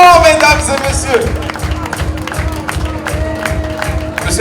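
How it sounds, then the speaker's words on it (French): Guests at a surprise party for a father, Monsieur Ali Choubou, clapping and cheering in a steady rhythmic burst of applause, loud and close, with music and voices mixed in underneath. "Monsieur Ali Choubou, vos applaudissements, mesdames et messieurs."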